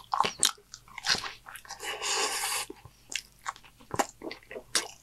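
Biting into and chewing a homemade Taco Bell-style taco, with crisp crunches and wet chewing repeating up close, one longer crackling crunch in the middle, and no talk.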